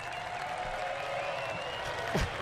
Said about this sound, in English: How about a round of applause for Max Blair?